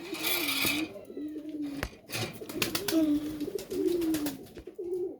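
Fancy pigeons of foreign breeds, including Jacobin, racer and Indian Lotan, coo repeatedly in a loft, several soft, rolling calls close by amid wing flutters and small knocks.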